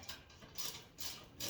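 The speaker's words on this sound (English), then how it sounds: "Get some ratcheting action going on." A ratchet wrench clicks in short, quiet bursts while a garage tool storage rack is being assembled, a faint close-up mechanical ratcheting with no talk.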